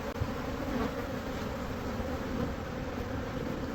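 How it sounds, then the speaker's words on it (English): A swarm of honey bees buzzes steadily in a tree, a dense, continuous droning hum at close range with no talking. "There's a lot of bees. A lot of bees."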